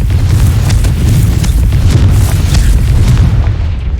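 A Confringo fire spell from the Hogwarts Legacy video game bursts into a loud, sustained booming explosion that rumbles continuously for several seconds, alone with no talk over it.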